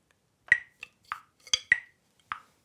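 Single drum strokes are followed by quick double strokes, all dry, close and evenly spaced, standing alone over silence.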